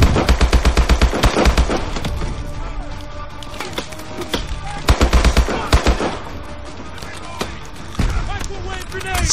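Rapid automatic gunfire in Call of Duty Advanced Warfare during a crash scene, dense bursts of sharp shots in repeated volleys with loud booming impacts, close and intense, with game chatter faintly underneath.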